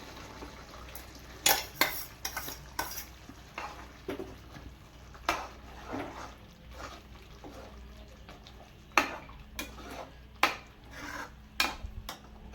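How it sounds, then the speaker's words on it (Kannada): Spinach paste going into simmering homemade paneer gravy, stirred with a metal spoon that clinks and scrapes against the pot in scattered bursts over a low bubbling background, with no talking. "ಆಮೇಲೆ ಈ ಮಿಕ್ಕಿರೋ ಪಾಲಕ್ ಸೊಪ್ಪು ಪೇಸ್ಟ್ ಇದೆಯಲ್ಲ"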